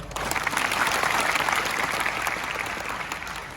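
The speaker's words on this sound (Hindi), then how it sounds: "अपने सही जवाब के लिए ताली बजाओ।" Classroom of students clapping together to reward a correct answer, a steady close burst of applause filling the room and holding evenly throughout before easing slightly at the end.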